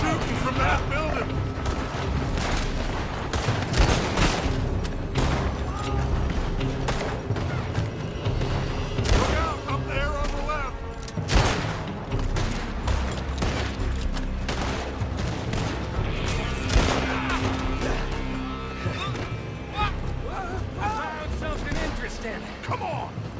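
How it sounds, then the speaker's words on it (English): Sustained gunfire rattles from a building in Red Dead Redemption 2, with dense, loud volleys of shots cracking throughout while people shout and talk over the fighting. "They're shooting from that building."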